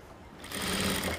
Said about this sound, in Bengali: আমাকে একদম গোড় দিয়ে একটা চাপ সেলাই শুরু করতে হবে